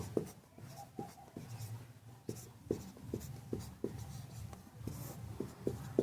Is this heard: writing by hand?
yes